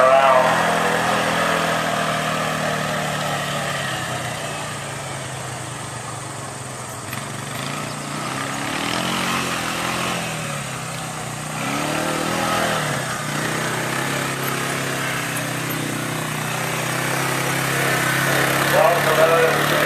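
An ATV engine drones steadily through a riding safety demo at an outdoor farm show, its revs swelling and easing as the rider throttles and brakes through turns, while a commentator talks over it.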